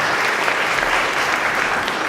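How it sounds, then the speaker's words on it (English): A city council debate audience claps for the candidates, a dense, loud, steady round of applause filling the hall throughout. "Will you give the candidates a round of applause for their opening comments"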